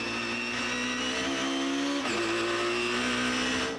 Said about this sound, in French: Voilà la mécanique BMW que vous avez pu entendre.